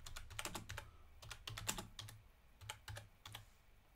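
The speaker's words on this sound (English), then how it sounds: "And then I'm going to type some text." Text being typed on a computer keyboard, close and quiet, with clusters of quick key clicks broken by short pauses and no talking.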